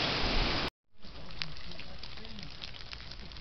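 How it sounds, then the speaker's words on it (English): Steady rain falls during Tropical Storm Cristobal, a continuous broadband hiss with scattered drop ticks, cut by a brief silent gap before resuming at a moderate, even level. "The rain slowed down"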